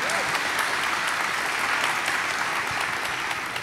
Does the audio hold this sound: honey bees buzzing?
no